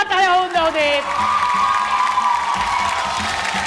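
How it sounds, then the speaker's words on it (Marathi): At a tug-of-war contest, an audience breaks into loud applause and cheering for the runner-up, a sustained crowd roar after a brief voice at the start. "जोरदार टाळ्या होऊन जाऊ देत"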